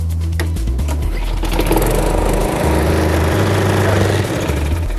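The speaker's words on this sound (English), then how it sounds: "With ReadyStart Electric, you can also start your lawnmower by pulling the cord." A Briggs & Stratton walk-behind lawnmower engine with an electric starting system fires up and runs, a close, loud, chugging mechanical drone with shifting low tones and no talking.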